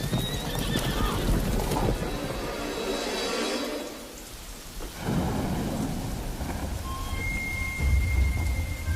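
Horses whinny and hooves pound in a dense, loud mix with thunder and rain, the commotion dipping briefly before surging again.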